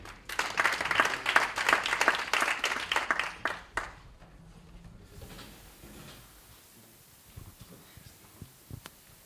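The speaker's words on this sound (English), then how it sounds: "Let's clap them to the podium" At a debt conference session, the audience claps in a brisk burst of dense applause for about four seconds, then it fades out into quiet room tone with a few faint knocks.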